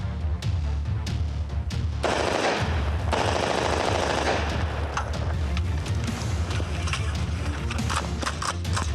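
Loud automatic gunfire from a firearm on a film-weapons range, rapid bursts running almost continuously with dense, sharp reports and no pauses.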